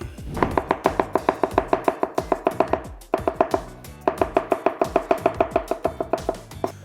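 A knife chops through a pear on a cutting board in two fast runs of sharp, evenly spaced taps, close and clear, with a short pause between the runs and no talking.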